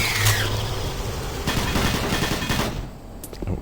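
Rapid bursts of automatic gunfire from the Doom 3 video game, loud and continuous with dense overlapping shots and a short pause near the end.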